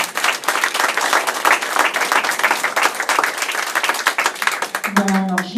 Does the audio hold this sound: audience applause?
yes